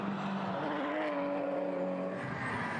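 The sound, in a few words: race car spinning out at a chicane, from a racing video game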